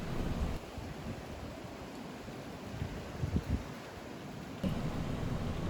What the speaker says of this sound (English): In a cool, slightly breezy atmosphere.